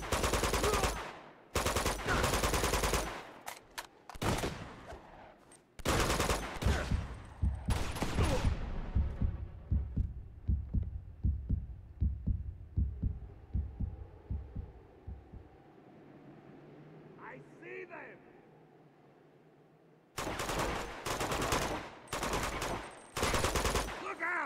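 Game gunfire from Uncharted: Among Thieves rattles in loud, dense bursts of automatic shots, thins into a run of separate thuds, goes quiet under a low hum, then returns as heavy volleys.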